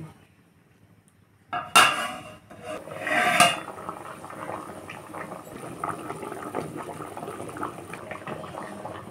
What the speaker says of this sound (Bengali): এবার আমি ঢেকে 15 মিনিটের মতো রান্না করে নেব